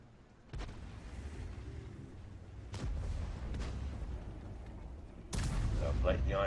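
Artillery fire in the World of Tanks tank battle game comes as three heavy booming blasts over a low rumbling battlefield bed, each with a sharp onset and a lingering tail, the last one the loudest and nearest.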